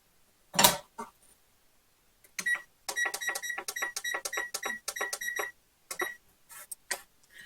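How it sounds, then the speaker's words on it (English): A kitchen timer rings in repeated bright electronic beeps after cookies finish baking, with a few clinks and clatters of kitchen items before and after the beeping burst. "All right, the timer's gone off."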